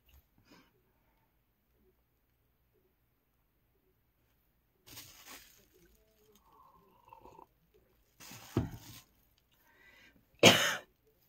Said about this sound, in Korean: 제가 기침 감기인 것 같아요